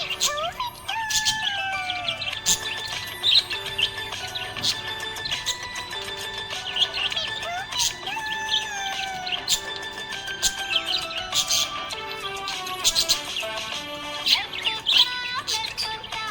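A happy budgie parrot chirping continuously, bright rapid tweets and warbling whistles close up and loud, repeating throughout with no voices.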